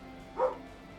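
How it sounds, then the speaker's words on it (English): A pet dog in a home barks twice, short and faint, with a brief gap between the yaps against quiet background noise. "Apologies if you can hear my dog barking."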